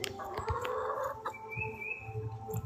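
Frizzle chickens cluck and murmur softly at close range, with low scattered calls layered over steady background noise.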